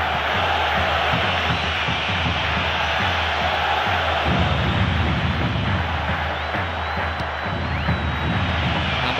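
Stadium crowd in a PES 2013 football match at the Copa Santander Libertadores, with Santos FC playing, roaring and cheering continuously, loud and dense, swelling after a few seconds.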